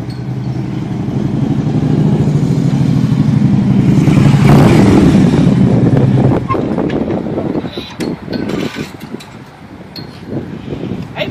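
Motorcycle fitted with CFR exhaust pipes, a loud close engine roar that holds steady and then drops into choppier, uneven rumbling, with wind buffeting the microphone.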